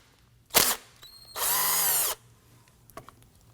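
A power tool whirs in two short, loud bursts while removing a rear brake caliper bolt on a Nissan Murano, close up, followed by faint metallic clinks.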